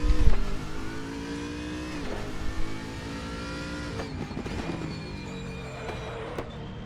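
BMW Z4 race car engine in the RaceRoom racing game, a revving drone with rising and falling pitch sweeps as the car shifts through gears, steady and moderately loud.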